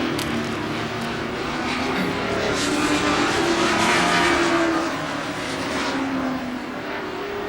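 Racing motorcycles at the 1985 Castrol 6 Hour race, with the Suzukis of David Hiscock and Robert Holden leading, roar steadily past in a continuous engine drone that swells in the middle and eases off again.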